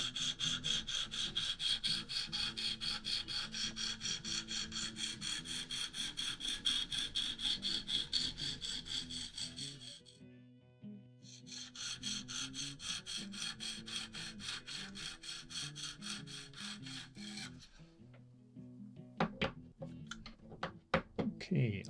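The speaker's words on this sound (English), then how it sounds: "You notice how much less noise it's making as we get into the finer grits" A Tenacious knife blade scrapes back and forth on a 140 grit stone in a KME sharpening system, fast rhythmic rasping strokes in close bursts separated by short pauses, ending with a few light knocks.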